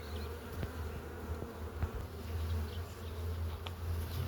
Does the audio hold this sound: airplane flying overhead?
no